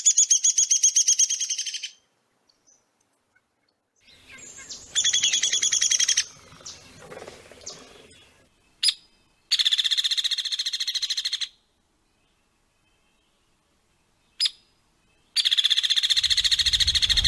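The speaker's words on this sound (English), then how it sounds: "Downy woodpeckers kind of descend in pitch as their whinny goes on." Several bursts of rapid, high-pitched whinnying Downy woodpecker calls, each a quick descending series of notes, separated by silences and a few faint clicks.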